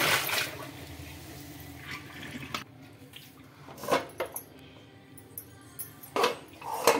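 An iron kadai being lifted and handled out of soaking water in a sink, with sloshing water, a few sharp metallic knocks and splashes scattered across the stretch, close by.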